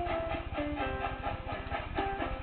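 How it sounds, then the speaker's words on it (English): Kirby turns into a train in the game Kirby's Epic Yarn, heard as a steady rhythmic clickety-clack of chugging rail sounds with bright musical tones layered over it. "Oh, he's a train."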